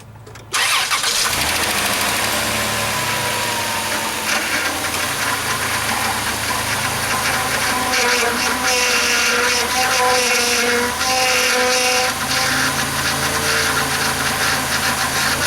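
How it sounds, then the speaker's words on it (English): A 2005 Dodge Grand Caravan SXT engine cranks and fires, then settles into a steady, loud idle that runs on for the rest of the stretch with no talking. "what we're going to do now is we're going to get it started up"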